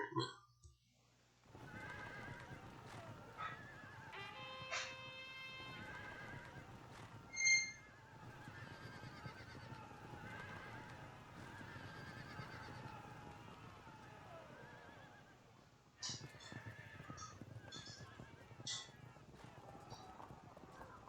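Horses whinny faintly amid galloping clip-clop in a Field of Glory II strategy battle, with a few rising neighs over a low, busy soundscape. A voice is heard at times.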